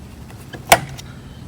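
A 1992 Evinrude 15 HP outboard motor shifting into forward gear gives a single sharp mechanical clunk in the middle, close and brief, with a few faint clicks around it against a quiet background.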